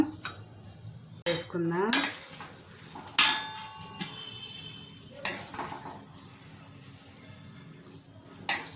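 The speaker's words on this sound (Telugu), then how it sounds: "ఇప్పుడు ప్లేట్లో వేసుకుందాం" Capsicum aloo curry is served onto a plate, with sharp clinks and scrapes of a spoon against a pot and dish in separate bursts and quieter shuffling between them, close by.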